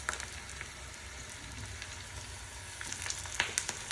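Tomatoes fry with lightly browned onion in oil for an egg gravy, a soft steady sizzle with faint crackles and a few sharper pops near the end, quiet and without voices.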